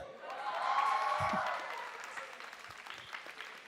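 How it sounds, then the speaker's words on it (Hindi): A live comedy-show audience claps after a joke, a broad wash of applause swelling over the first second and a half, then thinning into scattered claps toward the end. "इस वाले जोक पे सिर्फ फ्रंट बेंचर्स ने ही ताली बजाई है."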